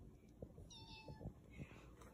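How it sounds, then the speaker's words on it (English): A domestic indoor-outdoor cat meows faintly nearby, a drawn-out mew against a quiet room background, with no talking. "He's an indoor-outdoor cat."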